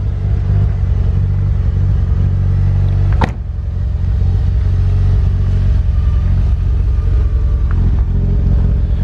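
An imported car, an Evo or GTR sitting unused with old oil, idles steadily with a loud, close engine rumble that sounds slightly lean, broken by one sharp click or knock partway through.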